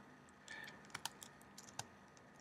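Fingers typing on a computer keyboard, a quiet sparse run of light key clicks with a few sharper taps, close up in a still room with no talk.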